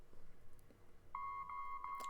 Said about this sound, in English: Beep, beep, beep. Do you hear that? It sounds like it's coming from up in the storeroom.